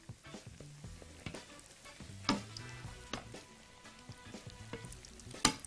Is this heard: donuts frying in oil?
yes